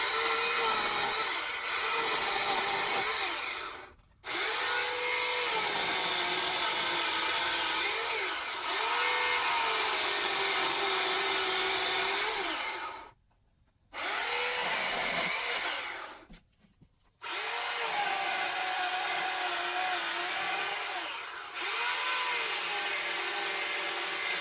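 A $40 Harbor Freight 14-inch electric chainsaw cuts through a tree trunk, its motor a steady, loud, close whine that stops briefly three times before running on under load.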